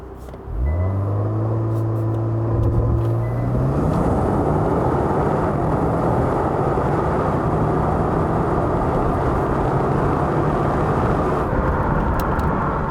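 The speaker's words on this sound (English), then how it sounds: "Now let me show you how fast Genesis G70 can be" A 2020 Genesis G70 with all-wheel drive launches hard under launch control on a lightly snowy day. The engine note rises sharply through the revs, then settles into a loud, sustained roar of hard acceleration.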